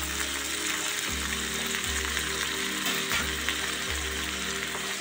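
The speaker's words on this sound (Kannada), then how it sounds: "ಇದನ್ನು ಚೆನ್ನಾಗಿ ಫ್ರೈ ಮಾಡಿಕೊಳ್ಳೋಣ." Onion, garlic and tomato frying in a pan for pomfret masala, a steady close sizzle with periodic stirring scrapes about once a second.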